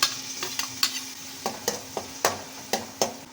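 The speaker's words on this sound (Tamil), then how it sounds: "ஸோ கொஞ்சம் ஹை ஃப்ளேமில் வச்சு நல்லா வதக்கிக்கோங்க." Half a tomato fries over high flame in oil for fried Maggi noodles, a continuous sizzle punctuated by a regular series of sharp spatula scrapes and taps against the pan.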